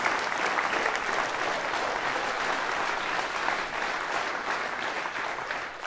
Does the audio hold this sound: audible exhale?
no